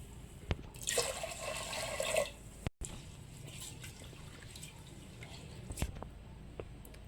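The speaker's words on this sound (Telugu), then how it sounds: "వాటర్ వేసుకొని వాష్ చేసుకోవాలి" Rice and moong dal are washed in water: a brief burst of pouring water, then soft sloshing, swishing and occasional drips, close and faint.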